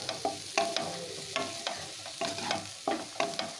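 Onion, tomato and turmeric powder being stir-fried in a pan, a steady sizzle with rhythmic spatula scrapes and clacks about twice a second, no talking.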